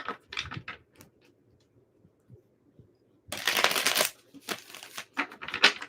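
A deck of tarot cards is shuffled by hand, soft scattered rustles and taps giving way to a loud dense riffling burst and then a few more ruffling flurries, close and without talk.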